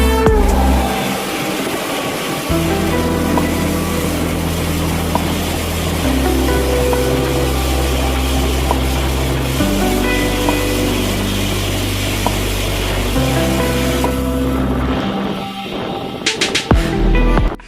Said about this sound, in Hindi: तो एक ट्रेन है जो क्रॉस कर रही है